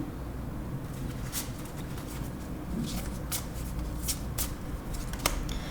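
Tarot cards being shuffled and drawn by hand, giving a steady soft rustle with several crisp snaps and flicks spaced through the clip, close and fairly quiet, with no talk over it.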